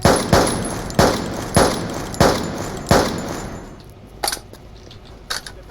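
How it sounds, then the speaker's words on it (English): Loud rifle shots from the video game Army Troop fire at a slow, regular pace, each crack sharp and close, followed by a few light metallic clinks as the shooting stops. "But this shoots more like a bolt action rifle."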